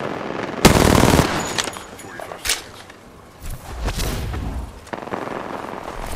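Bursts of enemy gunfire in Apex Legends, sharp loud volleys at the start with scattered shots and cracks afterward, some sounding distant, as a player talks between them.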